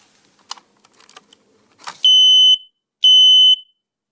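A home smoke detector being tested gives two loud, piercing electronic beeps, each about half a second long with a short gap between, after a few faint clicks and handling taps.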